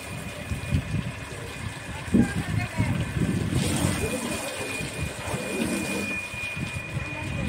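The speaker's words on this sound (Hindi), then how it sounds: "गाइस अभी यहाँ दादा धो रहे हैं अपनी गाड़ी" Water splashes and gushes over a car being washed outdoors, an uneven, nearby, continuous wash of spray with a few sharper splashes, while voices talk at times over it.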